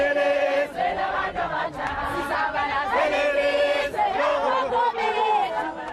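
Big crowds lining the road from Mthatha airport to Qunu as Nelson Mandela's coffin arrives, loud sustained chanting and singing voices with cheering, close and continuous throughout.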